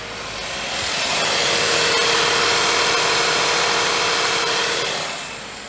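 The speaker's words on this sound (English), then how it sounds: "that right there is a spinning compressor" AC compressor of a 2014-2018 Subaru Forester spinning, a loud, steady broadband whir and hiss that rises, holds for several seconds, then fades, heard close with no talking.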